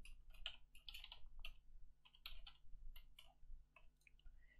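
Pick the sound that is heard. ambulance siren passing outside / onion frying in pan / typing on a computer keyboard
typing on a computer keyboard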